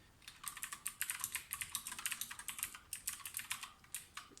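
Rapid typing on a Lofree DOT Bluetooth mechanical keyboard with round keys, a close, steady stream of crisp clicky keystrokes with no talking.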